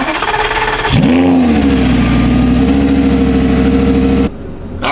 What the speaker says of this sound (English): let's get a cold start on a 2008 Gallardo Superleggera